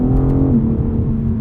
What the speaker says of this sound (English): Downshifting with this 8-speed is just, you get some little pops and burbles on the overrun